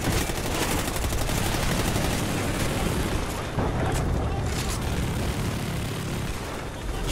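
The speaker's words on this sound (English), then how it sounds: "It's just randomly shooting in the sky," Continuous heavy gunfire in the Call of Duty Ghosts campaign, a dense loud barrage of rapid automatic shots and booms that barely lets up throughout.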